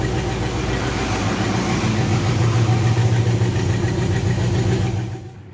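Engine of a show-quality 1969 Pontiac GTO during a test drive, a loud, steady low rumble with a throbbing idle character that holds evenly before dropping away at the end.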